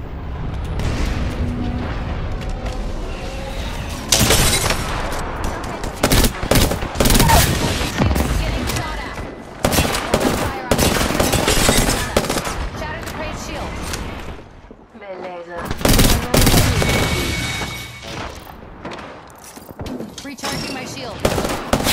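Rapid bursts of gunfire from the Apex Legends video game, loud fusillades and machine-gun volleys repeating across the whole stretch, with voices talking over the shooting.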